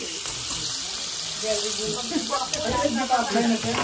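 Chicken wings coated in flour fry in hot oil, a crackling sizzle that grows busier and louder, with people talking faintly in the background.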